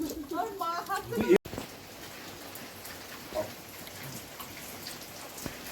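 Heavy rain falls in the Sundarbans as a steady, fairly quiet hiss. A voice speaks briefly at the start, and a faint bird-like chirp is heard.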